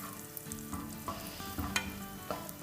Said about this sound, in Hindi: तो बस इतना सॉटे करेंगे जब तक कि ये किशमिश जो है वो थोड़ी फूल ना जाए